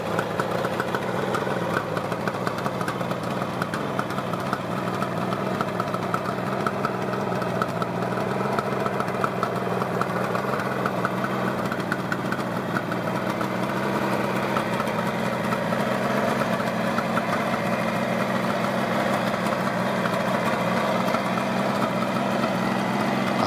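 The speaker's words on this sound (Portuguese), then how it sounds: "possui um motor dois tempos com três cilindros" A 1972–1975 Kawasaki 750 H2 two-stroke three-cylinder motorcycle engine idling close by, a steady buzzing drone with a fast, even pulsing that holds unchanged throughout.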